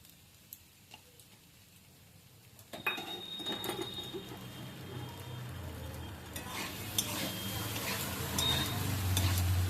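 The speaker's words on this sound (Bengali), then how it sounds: "এবার একটু ভাজা ভাজা মতো করে নিচ্ছি" Food sizzles in ghee in a hot pan while a utensil scrapes and clicks against the metal, the frying hiss growing louder and denser over time.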